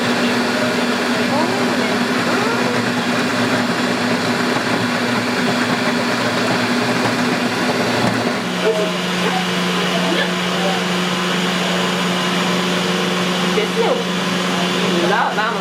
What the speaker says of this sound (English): now you turn the food processor on and wait